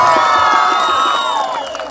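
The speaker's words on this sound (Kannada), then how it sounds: "ಜೋರಾದ ಚಪ್ಪಾಳೆ ಇಬ್ರಿಗೂ." An audience at a Rajatha Mahotsava celebration in Mandya cheers and shouts loudly and continuously, a dense crowd roar that fills the whole moment with possible clapping mixed in.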